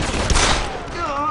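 Combat rifles fire in a rapid burst in the video game Deus Ex: Human Revolution, a short loud volley blending with game sounds and tones.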